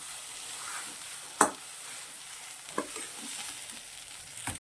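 Potato filling for cheese vada pav stirred in a pan, a soft continuous sizzle with a few sharp scraping knocks of the spoon, close and quiet, without speech.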